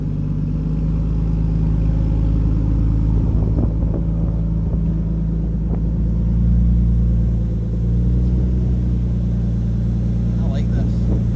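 A Nissan Skyline R33 GTS-T engine idles and rumbles steadily at close range as the car creeps between workshop ramps, a loud continuous low drone with a slight swell midway while a person talks over it.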